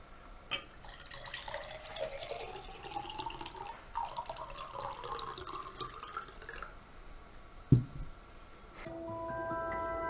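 Water trickling and splashing as it is poured, a soft continuous liquid flow with small drips, fairly quiet and without talk, ending with a brief knock and a faint tone.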